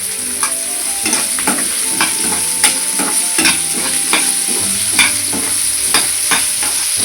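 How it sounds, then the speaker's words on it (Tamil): Onions sautéing with salt in a pan for ulli theeyal give a steady close sizzle and fry, broken by frequent scraping clicks from stirring, with no talking. "வதக்கும் போது கொஞ்சோட உப்பு போட்டுக்கோங்க. உப்பு போட்டால் சீக்கிரமாக வெங்காயம் வதங்கிடும்."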